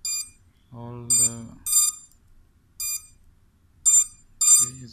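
A 5.8 GHz FPV OTG dongle receiver (gold edition) plugged into an Android phone gives a series of short, bright electronic beeps at irregular intervals, clear and close, while someone talks between and under them.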